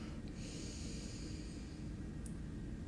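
Slow deep inhale through the nose during a guided yoga breathing exercise, soft and airy, close to the microphone, with no speech.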